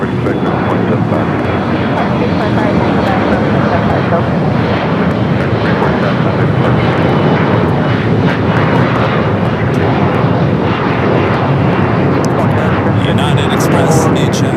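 A United Express airliner takes off at LAX, its engine roar a loud, steady broadband rumble that holds for the full stretch, with an airport radio voice faintly present under the noise.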